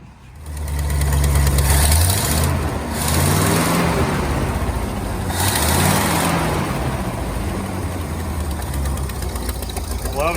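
Old 1966 Ford F600 truck engine idling nearby on a rigged gas-can fuel line, a loud low rumbling idle with uneven pulsing and a brief revving swell, people talking over it.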